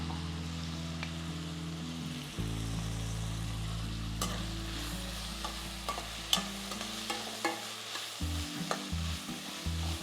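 Onions, tomatoes and green chillies with a pinch of turmeric sautéing for poha upma, a steady sizzle in the pan with repeated scraping and stirring clicks of a spoon throughout, close and fairly loud, no talk.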